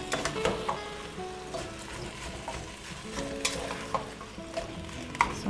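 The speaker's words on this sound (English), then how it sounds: "So it's already starting to sizzle." Meat and onions sizzle steadily in a pot, a continuous frying hiss with occasional stirring scrapes and clinks, close up and without speech.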